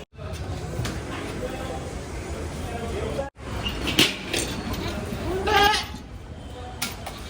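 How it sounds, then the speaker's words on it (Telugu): A male goat bleats at a crowded livestock market, a couple of wavering cries rising amid steady crowd noise and nearby voices. "ఒక మేకపోతు తీసుకోవడానికి అయితే సో మండికి వచ్చినాం"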